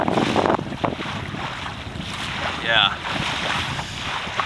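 A Beaufort Melonseed sailboat under sail in gusty wind, with steady wind noise buffeting the microphone and water rushing along the hull; a brief louder gust swells partway through, and someone speaks a single word.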